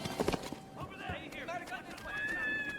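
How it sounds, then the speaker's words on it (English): An anime sound effect of a horse galloping away in a feudal-era samurai setting: rapid hoofbeats with a whinny-like cry, set against a busy, dense background. "I heard the sound of a horse running away"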